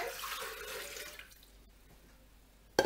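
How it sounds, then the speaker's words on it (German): Water poured into the Calli Kocht Mix & More Thermo 9 mixing bowl while making bread, a steady splashing rush for about a second that fades to a quiet trickle, then ends in a short sharp knock. "Jetzt habe ich mir mein Wasser geholt und wir geben auch direkt das Wasser in den Mixtopf rein."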